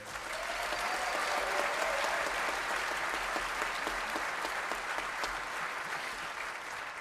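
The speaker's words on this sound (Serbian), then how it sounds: "Molim vas jedan velik aplauz." A concert audience applauds in a large hall, dense steady clapping that swells and holds evenly for the whole stretch, with no one talking over it.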